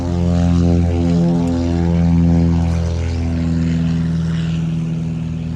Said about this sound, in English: That one went in the air smoothly, more smooth than the other plane.